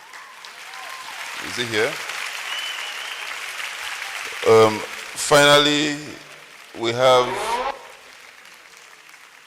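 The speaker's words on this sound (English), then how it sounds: "please clap for him as he comes up stage." At a Lagos law week town hall meeting, steady crowd applause runs throughout as a background patter while someone speaks over it into a microphone.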